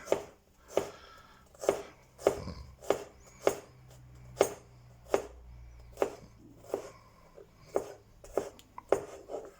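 A freshly sharpened kitchen knife chops food on a board with about a dozen crisp, evenly spaced strokes, close and clear with no talking.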